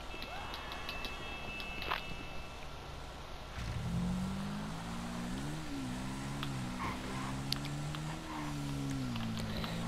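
A car in GTA 5 starts moving partway through, its engine rising into a steady drone that wavers in pitch as it drives, over a background of game ambience with scattered small clicks and knocks.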